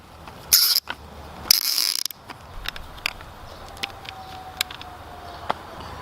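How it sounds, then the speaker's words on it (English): A hose clamp is tightened onto pool vacuum tubing from a Bestway Flowclear Aquaclean kit: a few sharp ratcheting bursts early on, then scattered small clicks and taps against a quiet background, close and without voices. "Got our clamp on there to tighten it down."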